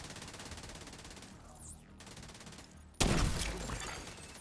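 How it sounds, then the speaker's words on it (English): Automatic gunfire rattles in a shooter video game, a sustained distant burst giving way to a sudden louder, closer volley with a sharp crack near the end. "I hear gunfire."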